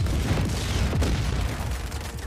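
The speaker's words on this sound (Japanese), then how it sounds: "結構な爆発でしたな。" A loud, sustained explosion rumble with crackling blasts in the open-world action game Just Cause 4, filling the whole moment with dense booming noise.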